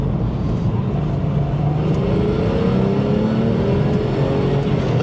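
A Porsche 996 with a Hartech 3.7 engine drives under load, its engine note a steady, loud, throaty drone with rising harmonic tones as it pulls, heard from inside the car with no talking.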